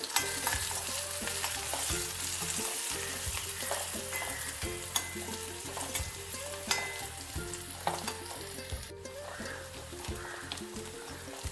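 Sprigs of home-grown curry leaves sizzle and crackle steadily in hot oil in a clay pot for a Kerala cashew nut curry, with a spoon stirring and scraping through it, close and continuous.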